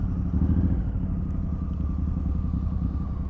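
A deep engine on a 2012 Suzuki Boulevard M109R cruiser motorcycle rumbles steadily nearby, a low throbbing idle that holds constant throughout.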